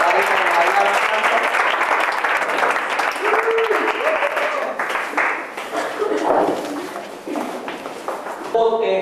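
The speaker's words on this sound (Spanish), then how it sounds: "Dense un aplauso ahí, por favor." Applause from an audience at a lecture, a broad steady wash of many hands clapping for about nine seconds, thinning toward the end, with a voice speaking over it at times.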